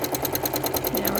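Sewing machine running fast while free-motion quilting repeating teardrops, a loud, steady, rapid mechanical stitching rhythm close up with no pauses.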